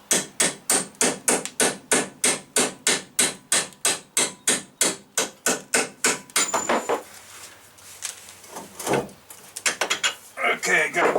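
Steady, loud metallic hammer blows drive a punch to free stubborn strut bolts on a Chevy Equinox front suspension, about twenty-five even strikes in a row, then scattered clanks and shuffling work noises.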